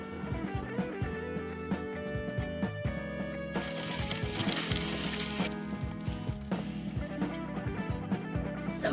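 Butter melting and sizzling in a hot pan for sous vide beef cheeks, a steady frying hiss with clinks and scraping, flaring louder midway, over a strong steady musical background.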